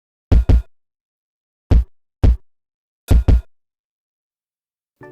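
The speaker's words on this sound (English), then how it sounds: "So I took just the kicks off of that loop." Isolated kick drums chopped from a drum loop: short, punchy low thumps in a sparse pattern, mostly in close pairs and singles separated by silence, ending with a brief burst of the fuller loop.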